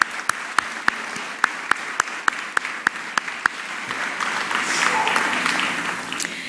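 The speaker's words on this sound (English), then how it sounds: "Let's give one more round of applause to all of our Teachers of the Year" Applause from a school district celebration crowd for its Teachers of the Year: sharp individual claps ring out near the start over a softer background, then swell into a denser, louder round.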